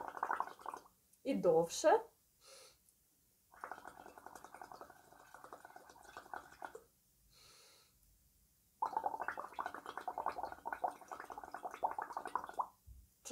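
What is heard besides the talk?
blowing bubbles into water through a straw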